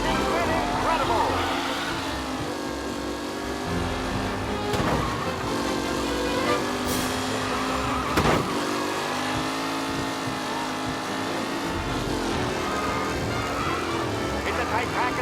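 Race cars from the 1930s-era game Mafia: Definitive Edition roar around a track in a tight pack, a continuous whine of engines rising and falling as cars pass close by, with an announcer talking over the noise.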